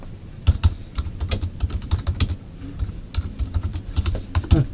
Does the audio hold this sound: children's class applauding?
no